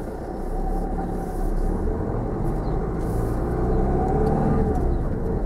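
A car pulls away during a driving lesson, its engine rumbling steadily and building slightly as it moves off near a pedestrian crossing and signals, heard from inside the cabin with no talk.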